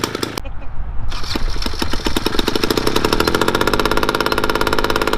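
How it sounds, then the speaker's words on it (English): A small engine runs loud and close as the throttle is opened, with a rapid steady knocking chatter that climbs into a faster even rattle. "Turn the throttle."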